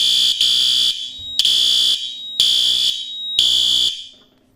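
A Silent Knight 5820XL fire alarm panel in alarm sounds four loud, shrill electronic horn bursts, each about half a second long with short gaps, before falling silent.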